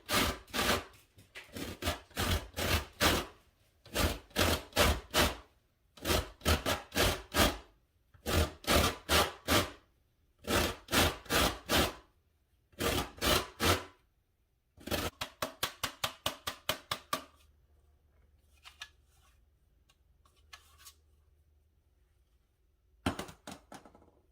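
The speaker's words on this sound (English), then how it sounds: "So I am working on getting the zest of my lemon." A lemon being zested against a grater, rasping in short rhythmic bursts of four to six quick strokes separated by brief pauses, loud and close, with scattered scraping and tapping near the end.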